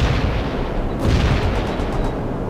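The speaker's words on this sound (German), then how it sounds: "Panzer rückt aus. Grenzbereich-Koordinaten erhalten, sind unterwegs. Feind erfasst und Geschütz geladen." Tank cannons fire in World in Conflict amid a dense, rumbling battle din, with heavy overlapping booms and a constant low roar, loud and close throughout.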